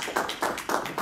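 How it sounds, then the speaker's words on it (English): Applause from participants at an evaluation workshop: a short run of steady, evenly spaced claps, moderately loud and close, with no talking over them. "I think we should give ourselves a round of applause."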